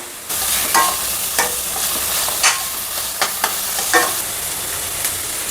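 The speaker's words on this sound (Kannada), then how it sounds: "ಈರುಳ್ಳಿ ಕಟ್ ಮಾಡಿ ಇಟ್ಕೊಂಡಿರೋದನ್ನು ಸೇರಿಸೋಣ. ಹಾಗೆಯೇ ಇದನ್ನು ಕೂಡ ಫ್ರೈ ಮಾಡಬೇಕು" Chopped onions fry in a pan as part of a channa masala, making a steady, close sizzle with a few light stirring knocks and scrapes spread across the few seconds, and no one speaking.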